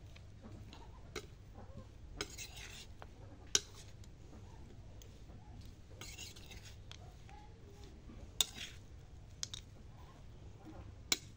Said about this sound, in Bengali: এখন একটা চামচ দিয়ে ভালো করে মাখিয়ে নিচ্ছি।